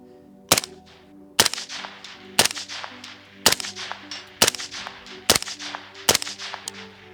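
Seven sharp shots from a suppressed CMMG Banshee rifle in 4.6x30, evenly spaced about a second apart, each a crisp crack with a short ringing tail.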